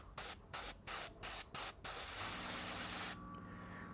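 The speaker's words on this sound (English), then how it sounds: "spray it on the towel just to make sure that we have no color left inside" An airbrush sprays water onto a towel to flush out leftover paint while cleaning it after scale-model painting: several short bursts of spray hiss, then one long continuous blast, close and alone.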